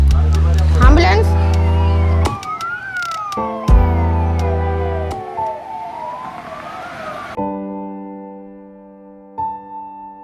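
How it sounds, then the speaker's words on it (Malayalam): An ambulance siren wails up and down, loud and close, sweeping through several rising and falling cycles and then cutting off. The siren drops to a steadier tone near the end, with no talk over it. "ആംബുലൻസ്."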